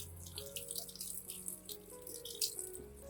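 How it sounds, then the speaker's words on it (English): Tap water runs steadily over a potted orchid being rinsed after root pruning, a soft continuous splashing with faint drips and light rattles, heard alone and fairly quiet. "I'll rinse the entire orchid under clean running water"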